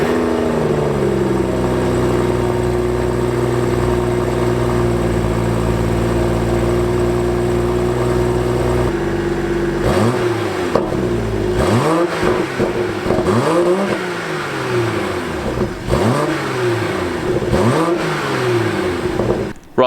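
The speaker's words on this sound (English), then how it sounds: "Let's drive the M240i. Let's get going." A BMW M240i (G42) idles with a steady low hum, then pulls away, its engine revving up hard through several gear changes in rising, repeated surges.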